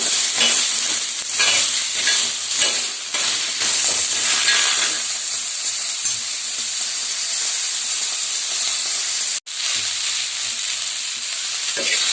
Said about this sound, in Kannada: ಟೊಮೊಟೊ ಕಾಯಿ ಇವಾಗ ಏನಾಗಿದೆ ಚೆನ್ನಾಗಿ ಹುರಿದಿದೆ